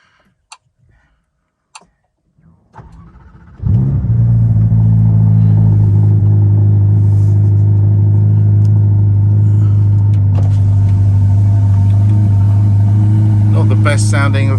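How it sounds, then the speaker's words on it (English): A Ferrari Roma sits quiet with a few faint clicks as the ignition comes on, then the engine cranks and fires loudly and settles into a steady, deep idle heard up close. "I'll turn the actual ignition on."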